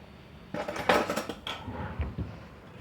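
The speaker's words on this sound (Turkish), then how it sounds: "Şimdi bunu e, kaşıkla karıştırmamız gerekiyor arkadaşlar." A spoon scrapes and clinks against a cup while stirring a slime mixture with paint drops, giving close, irregular scraping and tapping strokes for a couple of seconds.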